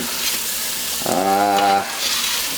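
Chopped onion sizzles loudly and steadily in melted butter and olive oil in a hot pan, close by, with a brief humming tone rising over the frying midway through and no speech.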